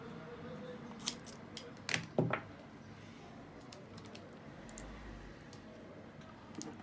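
Scissors snip through adhesive tape during an LCD screen protection job on an SLA 3D printer, giving a few quiet, sharp clicks and cuts against a faint background.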